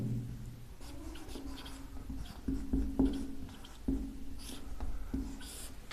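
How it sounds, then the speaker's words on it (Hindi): Chalk or marker scratches across a classroom board in short, uneven strokes with brief pauses, close and fairly clear over quiet room tone, during a lesson. "सबसे पहले मैं लिख देता हूं"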